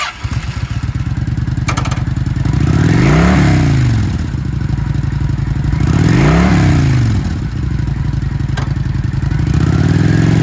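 Engine of a 2006 Kawasaki Vulcan 900 Classic V-twin cruiser motorcycle at a used-bike dealer, steady loud rumble rising into two revs and falling back, with light mechanical clatter, no talk.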